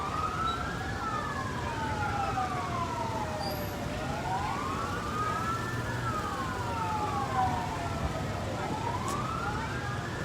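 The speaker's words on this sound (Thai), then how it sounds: "นี่รถดับเพลิงมากมาก" Several fire engine sirens wail, rising and falling in overlapping sweeps, loud and continuous over rumbling traffic, responding to an overturned, burning fuel tanker truck.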